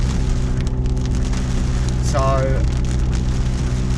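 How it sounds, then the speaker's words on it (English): Heavy rain pours down steadily around a parked MK7 Golf R, a dense continuous hiss of drops drumming on the car, loud and close, with a brief burst of speech partway through. "It's absolutely chucking it down."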